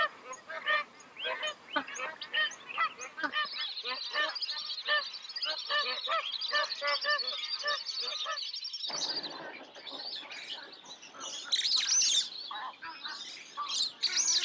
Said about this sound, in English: The magpie goose is widespread throughout coastal northern and eastern Australia.